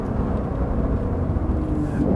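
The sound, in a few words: Porsche 911 sports car engine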